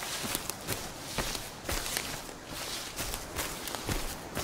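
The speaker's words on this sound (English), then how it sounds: "I hear footsteps." Footsteps crunch rhythmically across ground in the Sons of the Forest video game, a steady walking pace of close, distinct steps over a dense background hiss, with no one talking.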